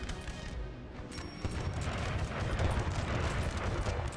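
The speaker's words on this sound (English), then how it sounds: "Some howitzers somewhere along the lines." Howitzer artillery fire in the Napoleonic battle game Napoleon: Total War III, distant booms rolling under a dense wash of battlefield gunfire that swells louder midway.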